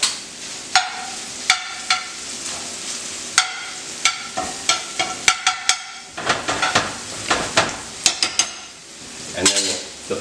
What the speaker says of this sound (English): you want to move these shrimp around.